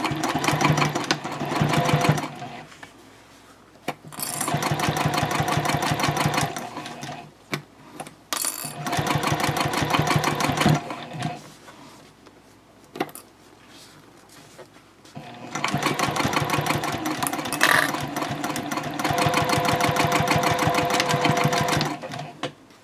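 A sewing machine stitches the top and bottom panels of a bowler bag together at a 3.0 stitch length, running in several long, steady bursts with short pauses between them.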